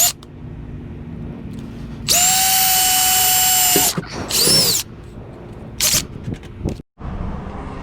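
A power drill bores a hole in a car bumper to fit a quick release on an Infiniti G37s, a loud steady whine lasting a couple of seconds, then shorter bursts and stops against quieter background noise.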